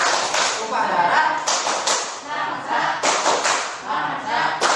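Indonesian classroom students perform the Tepuk Sumpah Pemuda clapping routine, a loud patterned run of group claps in bursts mixed with chanted voices.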